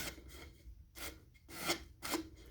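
Sanding the iron-on edge banding on a plywood veneer edge, worked with the grain: several short, close rasping strokes in bursts with brief pauses between them.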